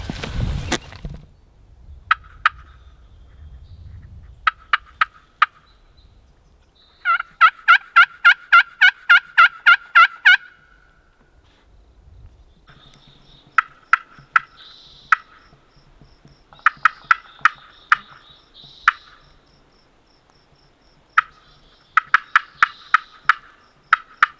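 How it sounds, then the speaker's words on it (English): Merriam's wild turkey gobbling during a northwest turkey hunt, several rapid rattling gobble bursts at moderate distance, one long clear sequence followed by quieter, scattered gobbles and clucks over faint outdoor ambience. "I feel like we're gonna catch a gobble at some point."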